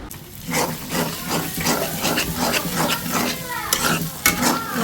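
Tomato, spices, green chili, coriander leaves, onion, garlic paste and two cracked eggs cooking in oil in a pan, with steady sizzling and repeated scraping strokes of a stirring utensil, close and continuous.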